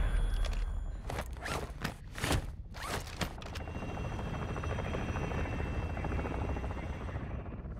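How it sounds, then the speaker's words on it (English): An enemy attack helicopter in Call of Duty DMZ approaches, its steady rotor drone rising to a continuous, fairly loud hum after a few sharp thumps and rustles at the start. "the enemy attack helo is moving in your direction"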